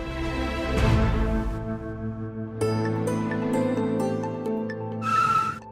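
A car brakes abruptly on a road, giving a short skid near the start, then dramatic music swells and carries on with a final flourish.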